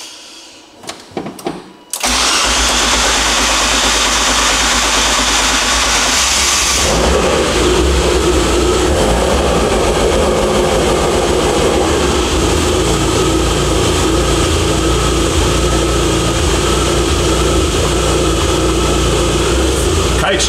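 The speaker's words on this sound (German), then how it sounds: "Kaltstart direkt auf 800 Umdrehung hier." Car engine cold-starting on a dyno test stand: a brief crank, then a loud steady roar that settles into a constant idle near 800 rpm, continuous and close.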